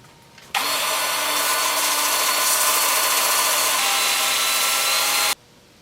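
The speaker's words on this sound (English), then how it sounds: "I'm just going to take it over here to the workbench and sand up this 2-inch area" A power sander whirs steadily against a cherry plum wooden bowl at a workbench, switching on abruptly, holding a continuous buzzing drone with a faint tonal hum, then cutting off cleanly.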